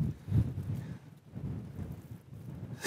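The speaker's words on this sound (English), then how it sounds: "Bit of rain still on the tent." Light rain patters on a small bivvy-style tent, a soft continuous close-up patter with low rumbling swells and no speech.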